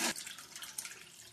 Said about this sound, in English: we're going to pour carefully through the strainer